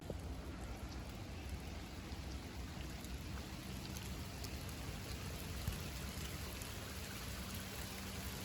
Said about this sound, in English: Got a little bit of rain going on right now.